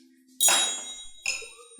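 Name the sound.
bell being struck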